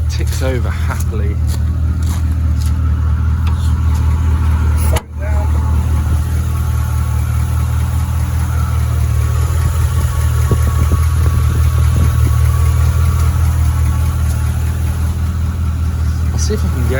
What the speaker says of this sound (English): So it ticks over happily.